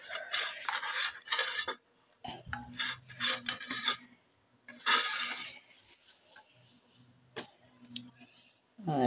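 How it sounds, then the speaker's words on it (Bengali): Fish roe being mixed with onion and turmeric powder in a bowl, heard as bursts of wet scraping and rubbing with utensil clinks against the bowl, coming in uneven strokes with short pauses between them. "মাছের ডিমটা এর সাথে মিক্স করে নেব।"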